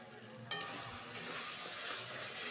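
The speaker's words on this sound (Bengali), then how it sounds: "কচুটা একটু ভালো করে লাড়াচাড়া করব।" Taro being stirred with a hilsa fish head in a hot pan, giving a soft continuous sizzle with two brief scraping clinks of the utensil, fairly faint and close.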